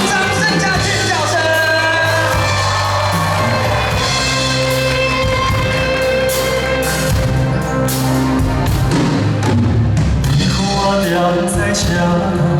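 A live concert audience cheers and screams over loud music at a hospital event in Kaohsiung, a dense, sustained crowd roar with shouts blending into the band's playing throughout.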